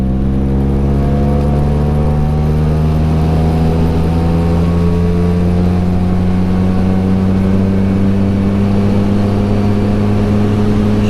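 Engine of a 1979 Vespa scooter pulling hard on a ride, a steady droning buzz with rising harmonics as it accelerates, loud and continuous throughout with no talking.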